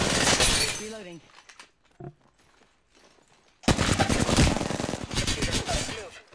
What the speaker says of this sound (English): You getting fucking shot at or what?